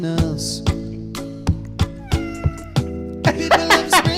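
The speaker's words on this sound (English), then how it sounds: "I love the cat sound." A cat meowing repeatedly and loudly up close, a rapid run of about a dozen short, tonal mews that grows busier and more insistent toward the end, with no speech over it.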